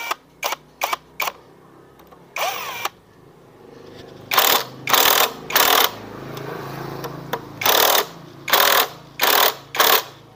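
A T8 wrench tightens piston bolts on a Honda Spacy FI or Beat FI scooter, giving sharp, close metallic clicks and ratcheting bursts, a few quick ones early, then regular louder clusters alone in a quiet workshop.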